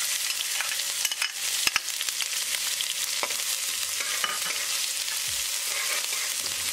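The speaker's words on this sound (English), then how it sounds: "As the oil start to heat up, add 1 teaspoon cumin. Add garlic, ginger and green chili." Garlic, ginger and green chili fry with cumin in hot olive oil, giving a steady soft sizzle with scraping stirs and clicks of a utensil against the pan, and no voices.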